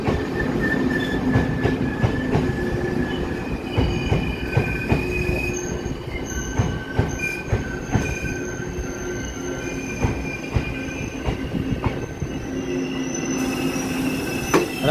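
A Taiwan Railway PP Tze-Chiang express departs Shulin for Hualien via the North-link line, with E1000 push-pull locomotives at each end and twelve cars. Steady close rumble with wheel squeal and rhythmic clickety-clack throughout, no voices.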